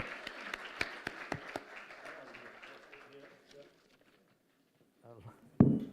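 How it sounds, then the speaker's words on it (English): Applause at a book launch greets the guest speaker, opening with a few distinct close claps over a diffuse crowd wash that thins out and fades to near silence before a voice and a sudden thump come in. "A huge round of applause for Mr."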